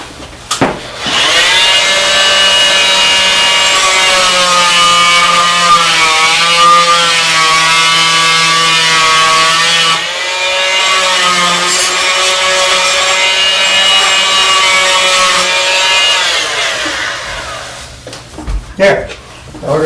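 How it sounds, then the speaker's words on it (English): The foot of a wooden bowl is sanded on a spinning lathe, making a loud, steady rubbing drone with a faint tonal whine that holds for most of the stretch before cutting off into brief knocks at the end. "There, all we're going to do is sand it up."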